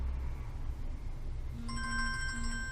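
A mobile phone ringtone starts partway through, a bright repeating electronic melody over a quiet, hissy room background.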